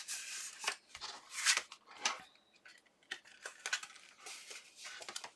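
A paper gift card bag is folded up at close range, giving soft crinkling, creasing and brushing sounds in quick irregular bursts.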